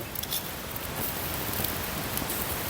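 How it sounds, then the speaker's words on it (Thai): Steady rain falls outdoors at a Thai home cooking spot where a fire is lit for grilling chicken feet, a soft, even hiss of drops with faint scattered patters, quiet and without talk. "มืดฝนมาแล้วครับ"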